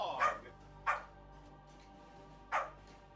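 A dog barks three times at close range, two sharp barks about half a second apart and then a third after a longer pause, each one brief and loud over a quiet background.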